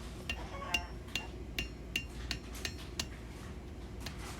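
A hammer rings in a steady series of about ten sharp metallic strikes on an anvil as a smith splits the tip of a forged bird cage handle for a fireplace shovel over a hardy cutter, each blow close and clear above a low background rumble.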